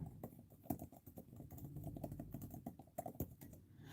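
Fingers tapping quickly on an iPad screen keyboard, a close run of soft, irregular clicks and taps with no speech.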